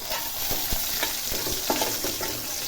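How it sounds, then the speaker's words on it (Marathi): Curry leaves and spices fry in hot oil for tomato saar, a continuous sizzle broken by repeated clacking stirring strokes against the pan, close and moderately loud, with no talking. "आता हे सर्व छान तेलावर फ्राय करून घ्यायचं"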